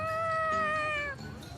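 A cat meows in the Tales of Xillia 2 video game, one drawn-out, clear mewing cry that bends slightly downward before trailing off into quiet background ambience.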